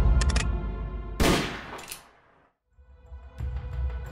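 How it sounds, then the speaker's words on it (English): A burst of gunshots in a 2021 short film, a few sharp cracks followed by a loud, reverberant blast that fades into near silence before more shots erupt at the end. "Take one more step and I'll shoot!"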